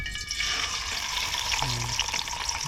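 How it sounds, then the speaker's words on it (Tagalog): Food sizzles and crackles in hot oil, a dense hissing texture with a brief stirring clink partway through. "Prito na po tayo."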